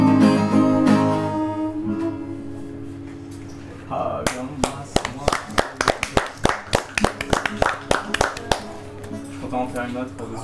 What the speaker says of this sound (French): Mais merci pour les applaudissements.